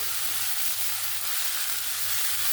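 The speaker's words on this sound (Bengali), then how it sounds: "তার সঙ্গে দিয়ে দেবো আলুগুলো, দিয়ে ভালো করে মিক্স করে নেব" Ash gourd and potatoes sizzle loudly in a hot frying pan as they are stirred, a steady close-up crackle with no talking.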